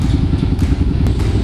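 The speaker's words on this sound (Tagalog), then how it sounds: "Nagpainit kami sa motor." Motorcycle engines warm up and idle together in the early-morning dark before the start of an enduro ride, a dense low rumble with loud, steady throbbing and occasional clattering.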